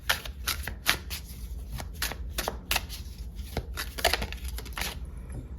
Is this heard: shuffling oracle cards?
yes